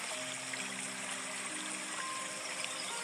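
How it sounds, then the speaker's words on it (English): Waterfall ambience: a soft, continuous rushing wash of falling water, steady and fairly faint, with a few gentle tonal notes drifting over it. "The waterfall."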